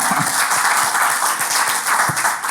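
A theatre audience applauds a performer with a dense, sustained wash of clapping that stays loud and even for a couple of seconds, with a few thumps underneath and no talk.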